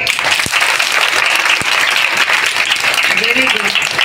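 An audience claps continuously at a public gathering, a dense, even wash of applause held at full strength throughout, with a voice briefly audible near the end.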